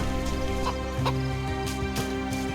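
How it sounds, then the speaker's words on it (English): A chicken in the survival game DayZ clucks repeatedly in short, uneven bursts, fairly close and moderately quiet, over a steady tonal game ambience with no talking. "Whilst I'm waiting for the zucchinis to grow, I do come across this chicken."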